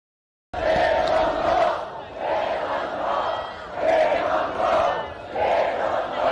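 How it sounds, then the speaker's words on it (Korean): A large crowd at a political rally in Olympic Park roars and chants in rhythmic waves of massed voices, surging and dipping every second or so after a brief silent start. "그날의 함성을 한번 들어보시죠."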